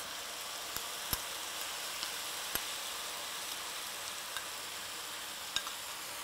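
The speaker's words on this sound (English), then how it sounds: "Now you're going to cook the vegetables in the teriyaki sauce. Again, stirring completely, letting everything get wet and moist." Vegetables for a heart-healthy beef stir-fry cooking in teriyaki sauce give a steady, quiet sizzle, broken by a few sharp ticks of stirring utensils against the pan.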